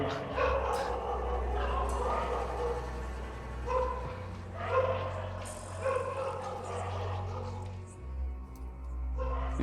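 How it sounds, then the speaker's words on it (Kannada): Several dogs bark and yip in bursts at a moderate distance at night in Bangalore, over a steady low engine-like rumble. "ಒಂದು ಲೈಟ್ ನೋಡಿ ನಾಯಿ ಬೊಗಳ್ತಾವ ಅಷ್ಟೇ ಅನ್ಸುತ್ತೆ"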